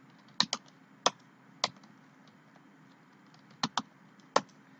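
Short bursts of computer keyboard typing as a database query is entered, with sharp clicks arriving in irregular pairs and singles across the stretch, close and moderately quiet over a low steady hum.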